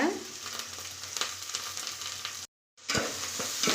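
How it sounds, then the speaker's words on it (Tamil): Onion, fennel seeds and curry leaves sauté in hot oil with a steady, close sizzle and crackle, broken by scraping stirs and a brief dropout before the frying resumes just as loudly. "எல்லாத்தையும் ஒன்றா வதக்கி விட்டுக்கலாங்க"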